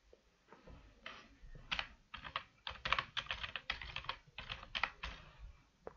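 Steady typing on a computer keyboard while entering a web address into a browser search box, a run of close, crisp key clicks in irregular bursts with no talking.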